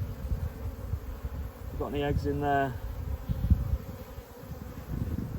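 Honey bees swarm over a hive frame, making a continuous low buzz that runs throughout, close and steady, while someone briefly speaks over it midway.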